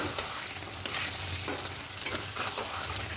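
Kadai chicken being stirred with spiced masala water in a hot pan, a continuous close sizzle broken by several sharp scraping clicks of the spoon at irregular intervals.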